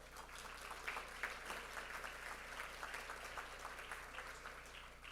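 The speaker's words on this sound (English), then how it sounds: "I just want to give them applause for doing that work" Applause from the audience at a mayor's state of the city address, fairly quiet and distant, an even patter of many hands with a low steady hum beneath and no voices on top.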